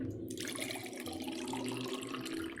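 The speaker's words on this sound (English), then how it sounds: "I like the sound of water pouring in a glass" Water pours into a glass in a steady, splashing stream that starts suddenly and keeps running at an even, close level, with a bubbling, rising tone.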